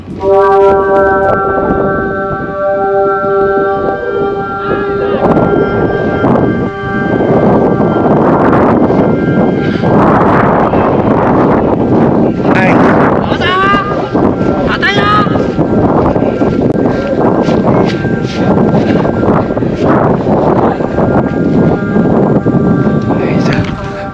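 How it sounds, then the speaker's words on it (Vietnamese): Strong wind roars continuously outdoors and buffets the microphone at a kite-flying spot, loud throughout, with steady harmonic tones of kite flutes at the start and people talking beneath the gusts. "gió to quá"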